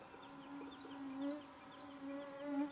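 Mosquitoes whine around a person resting at a quiet lake, a faint thin buzzing drone that rises and falls as the insects circle close, with no voices.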